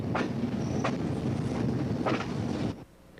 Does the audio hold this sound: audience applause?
no